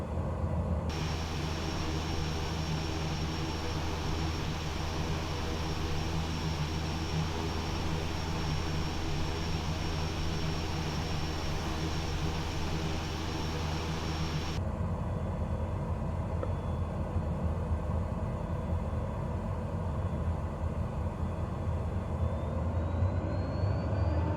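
A Pilatus PC-12 NGX single turboprop engine taxiing in a flight simulator game gives a loud, steady droning hum with a faint whine on top. Partway through, the upper whine drops away and a rougher, lower rumble continues.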